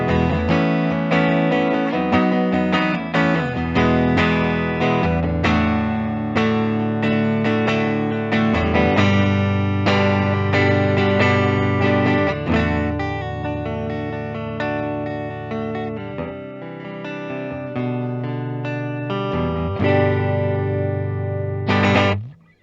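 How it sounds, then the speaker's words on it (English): Gibson Les Paul Special electric guitar in Berries and Cream finish, played through the neck pickup with distortion and chorus effects, giving loud, sustained chords and single-note lines in a continuous phrase that rings out and stops at the end. "let's go ahead and grab the tones of the Berries and Cream Les Paul Special here. We'll start with our neck position."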